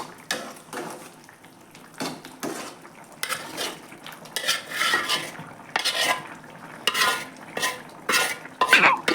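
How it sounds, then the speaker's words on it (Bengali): Fried fish added to a pot of nearly boiled homegrown vegetables, heard as repeated clatters and scrapes of a utensil against the pot over a soft sizzle, close by and without talk. "এখন আমি এর মধ্যে আমার ভেজে রাখা মাছগুলো দিয়ে দিব"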